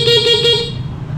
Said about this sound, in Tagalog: Andito yung mga indicator at yung busina ganito ang tunog.